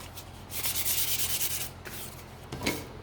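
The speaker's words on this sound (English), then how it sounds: "I'm going to come in here and just give this a quick sand." Sanding a wooden hanging sign by hand, a close, steady rasping scrub that pauses briefly and then comes back in two shorter strokes.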